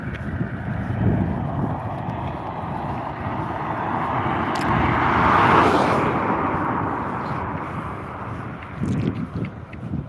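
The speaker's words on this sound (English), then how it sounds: "Car coming, so I'm going to have to be careful with him." A car passes along a seaside cliff-top promenade, a broad rushing swell that builds to a peak around the middle and fades again, heavy with wind buffeting the microphone.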